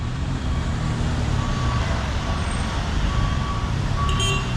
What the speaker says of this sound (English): Got the traffic always on 10th Street.